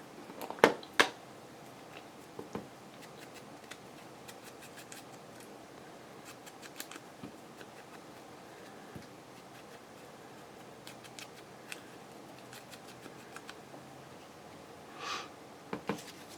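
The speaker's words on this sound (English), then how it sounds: "This I cut out from Denise at Wondubar Crafts, her paper." Scissors snip through decorative craft paper while a ledger journal is assembled, giving faint, sporadic cuts with a few sharper snips near the start and end over a quiet room.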